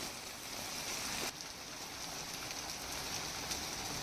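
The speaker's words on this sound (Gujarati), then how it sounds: "પાણી સતત વહી રહ્યું છે, અડધો કલાકથી તો સતત પાણી વહ્યું છે" Heavy rain pours steadily in Ambaji, Gujarat, with water running continuously along a road amid a thunderstorm; a dense, even hiss of rainfall and flowing water fills the scene, with a brief dip just before the midpoint.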